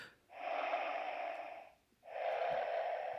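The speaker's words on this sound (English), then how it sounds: "It's, I mean, recognizable as a Darth Vader type of breathing, but it really sounds like crap" Synthesized Darth Vader breathing from a LEGO Star Wars smart brick: two long, hissy, lo-fi breaths, an inhale then an exhale after a short gap, fairly loud and close with no talk.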